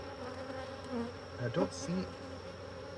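Honeybees hum softly in an apiary, a faint, steady buzzing layer with brief louder passes of individual bees, while people talk quietly nearby.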